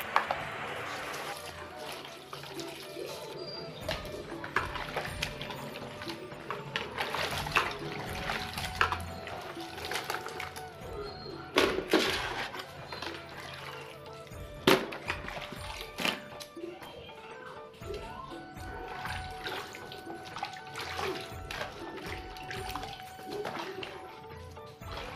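Potato slices being washed in water, rinsed in a bowl with sloshing, splashing and clattering sounds, fairly quiet and uneven, with a voice talking over parts of it.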